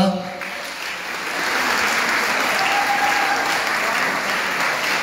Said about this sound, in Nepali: आफूले आफूलाई बधाई दिँदै एकचोटि ताली बजाउनुहोस् त